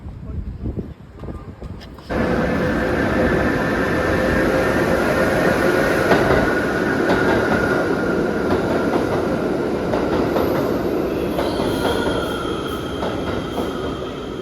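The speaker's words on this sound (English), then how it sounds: "Time to go back on the train." A train rolls steadily along the rails in New York with a continuous loud rumble and rattle, faint squealing tones riding over it, after a brief quieter start.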